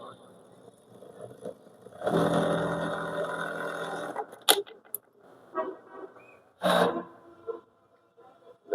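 Plain lockstitch sewing machine stitching around a corner in a garment workshop with loose thread tension, a steady mechanical whir for about two seconds, then short bursts and clatters, close by with no talk.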